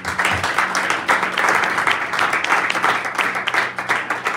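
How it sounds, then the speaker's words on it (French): A church congregation applauding during a French-language sermon, steady, close, sustained clapping from many hands throughout. "Est-ce qu'on peut acclamer l'Éternel?"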